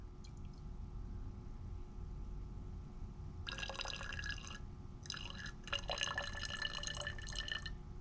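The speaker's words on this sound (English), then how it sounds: "we're going to go ahead and pour in" Liquid is poured in short splashy bursts into a glass beaker during a chemistry density measurement, with a pause between pours, over a low steady background hum.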